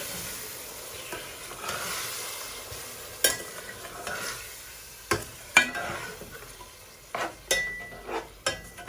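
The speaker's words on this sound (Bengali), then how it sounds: "এখন আমি মাংসগুলা দিয়ে আমি ভালো করে লাড়াচাড়া করবো।" Meat with spices being stirred in a pot for Eid cooking, with soft scraping and a gentle sizzle broken by several sharp clinks of the spoon against the pot, moderately close and with no talking.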